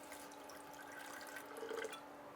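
Water pours into a pot for a high-protein soup, a soft, close trickle and splash at low level, with a brief louder gurgle near the end and no one speaking.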